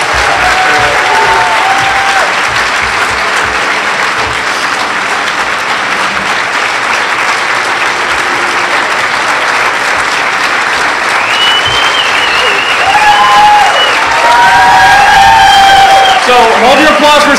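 A standing audience at a breast cancer fundraising kickoff event claps loudly and continuously, dense sustained applause with some cheering, while a voice speaks over it toward the end.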